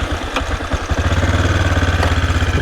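AJP PR7 motorcycle engine idling close by, a steady low, even putter with a regular pulsing beat after a few rougher revs at the start.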